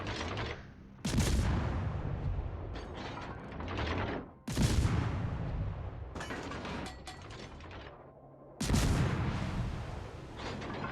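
Naval guns on a destroyer-type warship in a naval combat game firing shells at a battleship, heavy booming salvos in four separate blasts, each followed by a rumbling decay.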